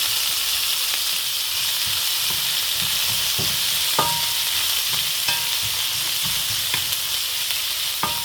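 Chopped banana flower and shallots are stir-fried in a pan, giving a steady close sizzle. Light scrapes and taps of stirring come through at irregular intervals, with no talk.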